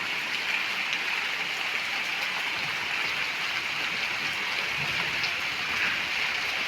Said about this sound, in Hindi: देखिए इधर में बारिश काफ़ी तेज़ हो रही है